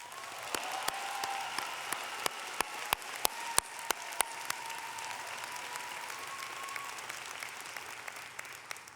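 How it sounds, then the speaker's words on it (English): An audience at a college commencement ceremony in an arena applauds in a continuous distant patter, with several sharper nearby claps standing out over the first few seconds. "Let's give them a round of applause"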